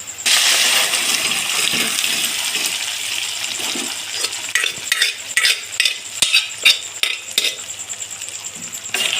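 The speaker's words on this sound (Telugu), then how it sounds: "ఇప్పుడు ఒకసారి బాగా కలుపుకుందాం" Onions stirred in a pan with spinach and moong lentils, a steady sizzle under repeated scraping and clinking strokes of a spoon against the pan, growing louder and more rhythmic toward the end.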